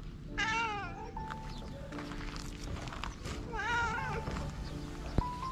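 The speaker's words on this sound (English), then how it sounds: "poor cat." A thin stray cat meows repeatedly, with two clear drawn-out wavering calls close by, set against a steady background hum and a sharp click near the end.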